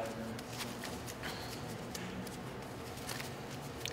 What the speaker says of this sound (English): Like, pretty sure I have to shuffle on this one.